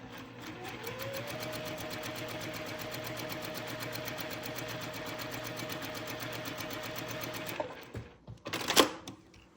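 A sewing machine stitches a quilt block seam for a beginner four-patch block in a fast, even, continuous run for about seven seconds, then stops. A few brief handling clunks and rustles follow.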